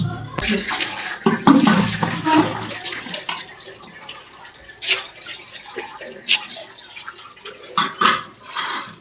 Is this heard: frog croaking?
no